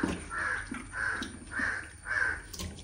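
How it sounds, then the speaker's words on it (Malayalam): Crows caw outside in four evenly spaced, harsh calls, moderately loud and slightly distant, with no talking. "കാക്ക തന്നെ ഭയങ്കര ബഹളമാണല്ലോ പുറത്ത്."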